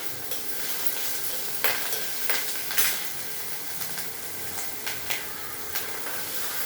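Chana dal and green chillies fry in hot oil, giving a steady close sizzle with a few sharp stirring scrapes against the pan and no voices.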